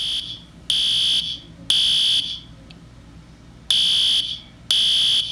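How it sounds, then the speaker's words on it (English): A fire alarm sounds four loud, piercing electronic beeps, each lasting about half a second, separated by short gaps over faint background noise. "The fire alarm is going off!"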